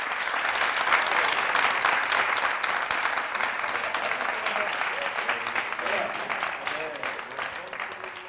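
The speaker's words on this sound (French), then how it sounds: "Merci d'applaudir très fort" TV studio audience claps loudly to welcome a guest, a full, sustained round of applause that slowly tapers, with a voice faintly audible near the end.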